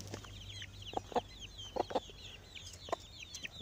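A hen clucks in a pen with her chicks, giving several short low clucks in small clusters, while faint high chick peeps continue softly in the background.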